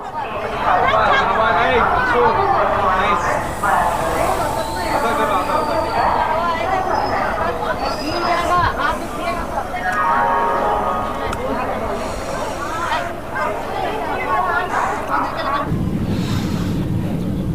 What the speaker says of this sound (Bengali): সঠিক সময় 6:55 ট্রেন আমাদের ছেড়ে দিল হুল এক্সপ্রেস